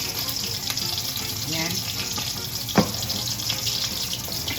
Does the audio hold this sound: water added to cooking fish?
yes